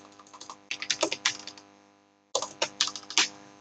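Fingers type a property address on a computer keyboard in two quick bursts of close, crisp key clicks separated by a brief pause, with no voices over them.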